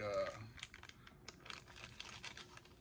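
Crinkly plastic rustling and crackling as a bag is pressed and handled, close by, with faint background noise throughout.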